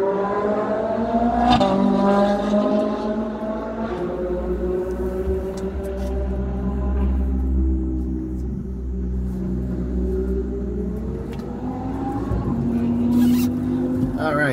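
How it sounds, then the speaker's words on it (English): Cars roar past steadily with rising and falling engine whine and deep low rumble, continuous and fairly loud, like race cars lapping the nearby Misano circuit. "hear the cars anyway"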